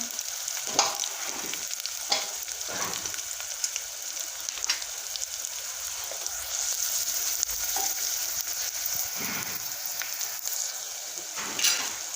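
Chopped onion frying in a pan until golden brown for urad dal, a steady close sizzle with occasional stirring scrapes, continuous and unbroken, no voices.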